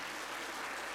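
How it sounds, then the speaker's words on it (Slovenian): Audience applause for a band member at an evening concert, a brief, dense, even wash of clapping with no distinct individual claps, fairly faint and continuous. "Dajmo en aplavz za našo gobico"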